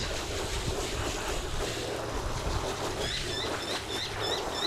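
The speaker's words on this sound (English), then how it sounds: "So I've got a spray on hose, the water hose." A water hose sprays steadily onto Jowua car floor liners, giving a continuous hissing rush with some splashing, close and fairly loud without talk.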